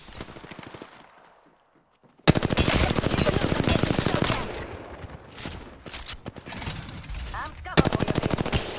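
Rapid automatic gunfire in an Apex Legends match, loud close-range bursts erupting after a quiet stretch and continuing in dense rattling volleys with brief pauses, ending in another sharp burst.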